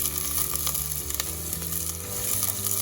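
Mutton biryani ingredients are stirred in a hot pan, giving a steady, close, continuous sizzle with faint scraping and no talk.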